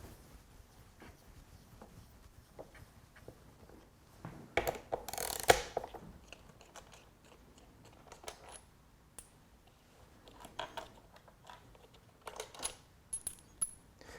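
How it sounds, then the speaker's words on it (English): A T40 Torx bit loosening bolts on a BMW R1200GS water-cooled motorcycle gives scattered metallic clicks and ratcheting ticks, with one sharp clattering burst midway and lighter clinks near the end, fairly quiet overall. "I'm using a T40 Torx bit to loosen these bolts."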